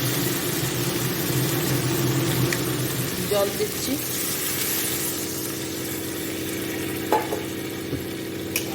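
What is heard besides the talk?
kitchen chimney exhaust fan running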